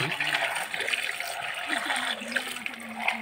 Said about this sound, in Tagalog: Lalagay na natin ng tubig.